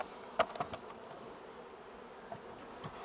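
Honeybees buzz close by during a spring honey harvest, with a few short, louder passes near the start over a soft, steady insect hum.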